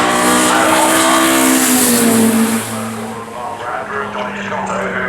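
A Mercedes DTM race car drives at the 2019 Goodwood Festival of Speed, its engine roaring loud and close before fading slightly as it pulls away. A commentator talks over the engine throughout.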